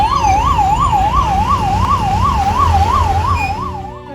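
An ambulance siren wails loudly and close, its pitch sweeping steadily up and down in a repeating cycle over low traffic rumble, fading slightly at the end.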